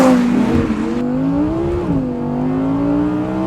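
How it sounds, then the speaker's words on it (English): An Audi R8 V10 with 540 bhp in rear-wheel-drive form revs up close, its engine tone climbing and easing in a smooth, loud, sustained wail. "Introducing my brand new Audi R8 rear-wheel drive edition. V10 540 brake horsepower driven by the rear wheels only."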